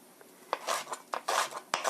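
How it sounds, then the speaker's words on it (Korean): A kitchen knife slices green onion into quarters on a cutting board while spaghetti with cream sauce is being prepped: several crisp, irregular cuts in quick bursts, close and clear, with no talking. "그린 어니언, 대파 향이 좋으니까 이렇게 4등분 하셔서"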